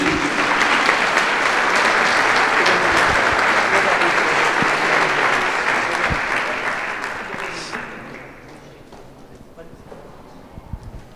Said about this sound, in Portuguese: Que a igreja possa aplaudir ao Senhor.